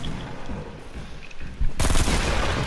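A burst-fire gun shoots in a video game, with quieter game noise first and then a loud, dense volley of close shots that fills the last second.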